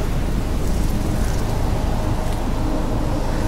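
Steady, heavy rain with a low rumbling thunderstorm beneath it, constant and unbroken, with no voices, in the video game Life Is Strange.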